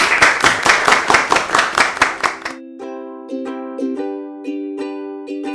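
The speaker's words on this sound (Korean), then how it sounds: "네, 박수 한번 주세요." Employees of the company GF Fermentech clap together at a staff event, about ten loud, rhythmic, evenly spaced claps lasting a few seconds before stopping, then a short chiming musical jingle follows.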